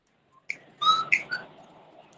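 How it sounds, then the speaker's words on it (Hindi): A few short, clear whistled notes sound one after another, bright and close, followed by quiet. "ये सीटियाँ कौन बजा रहा है?"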